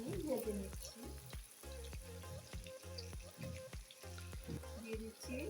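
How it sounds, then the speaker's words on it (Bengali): Onions frying in hot oil in a pan for Old Dhaka chicken tehari, a steady close sizzle with bursts of stirring and scraping throughout. "দিয়ে দিচ্ছি পেঁয়াজ, আর পেঁয়াজটা আমি ভেজে নিচ্ছি"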